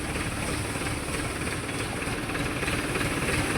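A tractor engine running with a loud, steady, continuous rumble close by, out on a rainy village road, with no voices.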